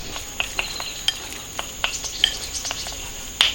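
Minced meat marinated with a little salt and cooking wine is stirred in a bowl, giving soft, irregular wet squelches and light clicks of the utensil, close and fairly quiet with a faint steady hiss behind.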